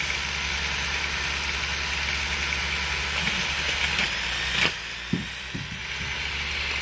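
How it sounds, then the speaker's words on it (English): A one-motor VEX V5 flywheel whirs in a constant mechanical hum, punctuated by a few soft thumps as balls are launched in quick succession. "this is a one motor V5 flywheel, and the balls are going over there."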